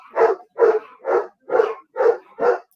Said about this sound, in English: My loud ass dogs. If people are hearing that shit right now